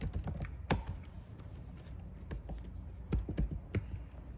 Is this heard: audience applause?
no